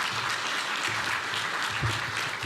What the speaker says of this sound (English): so we can get a round of applause